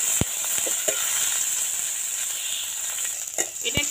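Black mustard seeds, curry leaves, chopped green chili and ginger fry in hot oil with a steady, close sizzle and occasional sharp pops and spatters, with no speech.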